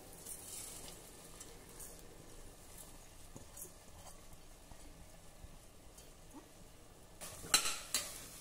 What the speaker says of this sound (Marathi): मंद आचेवर ह्या मसाल्यासोबत 2 मिनिट आता तांदूळ आणि दाणे आपण परतून घेऊ